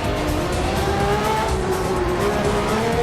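1994 Formula One car with a V12 engine on a flying lap in Assetto Corsa, a loud sustained high-revving whine rising in pitch, heard close up without speech.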